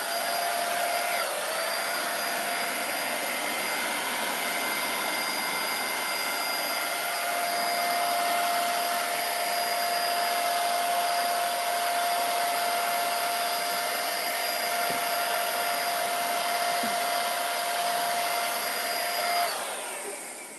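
A compressed-air spray gun hisses steadily and loudly, spraying lacquer over furniture for about twenty seconds without a break, then fades out at the end.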